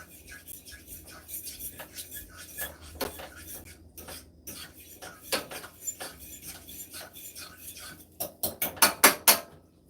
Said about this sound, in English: So I'm just going to stir this.